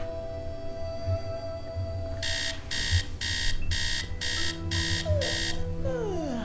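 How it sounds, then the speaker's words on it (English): An alarm clock in a Nancy Drew video game beeps in seven evenly spaced bursts of shrill ringing over a low background hum, ending with a falling electronic tone. "get used to that alarm because in the next game I know we do that a lot"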